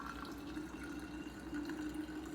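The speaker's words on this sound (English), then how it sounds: "So now I pour my water in." Water pours in a steady, close trickle into a bottle that already holds blue-tinted liquid layers, running unbroken for a couple of seconds without any talk.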